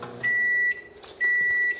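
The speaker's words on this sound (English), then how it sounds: "it says in the instructions to put it in the microwave for 1 minute 15 seconds to 1 minute 30 seconds depending on your microwave" Microwave oven cooking an egg in an Egg & Omelet Wave cooker, with a steady hum under two long, loud electronic beeps about a second apart and no speech.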